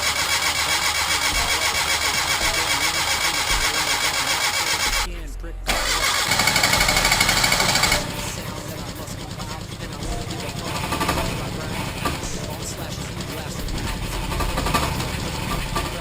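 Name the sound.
Geo Metro car engine running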